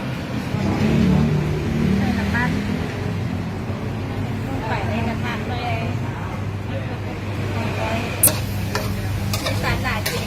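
Curry paste stir-frying in a hot pan, a steady close sizzle with spatula scraping and stirring throughout, someone talking over it and a few sharp clinks near the end.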